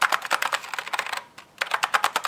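Typing on an Apple adjustable keyboard produces rapid, close clicking keystrokes in irregular bursts, pausing briefly before resuming, with no talk over it.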